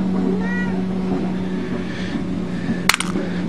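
A cat meows once, briefly and fairly faint, over a steady mechanical hum in a workshop where chainsaw and weedeater pull starters are being fixed, followed by a sharp metallic clink.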